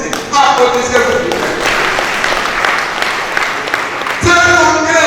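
An audience at a CSTB workers' union congress breaks into loud, sustained applause for about four seconds, dense hand clapping in a large hall, with a voice speaking at the start and again as the clapping fades.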